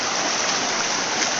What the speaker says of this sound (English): you got one stream coming down here, the main stream coming down here